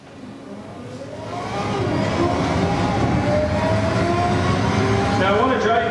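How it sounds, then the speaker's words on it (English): A Pagani Zonda R racing in the video game NFS Shift: a high engine note builds and rises steadily as the car accelerates, with layered rising tones, loud and sustained, and a voice talking over it. "I'm going to be driving the Pagani Zonda R against a field of mixed AI opponents"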